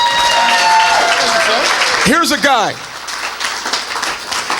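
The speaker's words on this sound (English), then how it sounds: "You all don't know why you're clapping for him, but clap for him." Audience clapping for Greg Holmes at a Maryland Republican Party spring convention kickoff, steady applause that fills the room throughout, with someone talking over it partway through.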